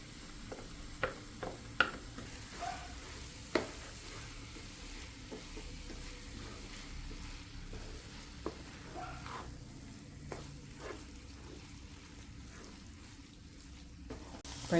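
Pineapple pachadi for a sadya cooking down in a pan with jaggery syrup, giving a soft, quiet sizzle and bubbling, with a few sharp clicks and taps of stirring scattered through.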